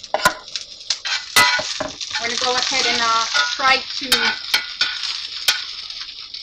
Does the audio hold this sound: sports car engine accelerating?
no